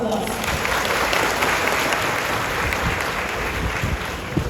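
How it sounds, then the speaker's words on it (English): A graduation crowd gives a steady, dense round of applause for a summa cum laude honoree, the clapping continuous and fairly loud throughout with no pause. "Let's give ourselves a round of applause"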